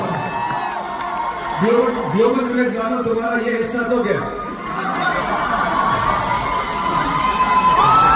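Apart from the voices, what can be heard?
crowd cheering and applauding at live show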